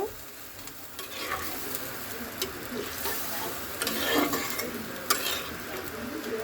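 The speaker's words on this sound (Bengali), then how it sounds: "এবার আমি সব কিছু একসাথে মিক্সড করে দেব" Sautéed vegetables being stirred in a pan after a splash of water, with a steady soft sizzle and scraping stir strokes throughout, fairly quiet and close, no talking.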